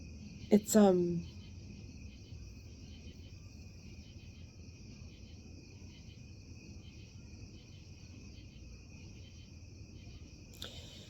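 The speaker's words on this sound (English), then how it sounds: "It's crickets." A steady high-pitched insect chirping drones continuously in the background, faint and unbroken, with a brief louder sound near the start.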